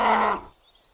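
A single short, loud roar from a wild animal, given as a bear, bursts out close and then fades within about half a second.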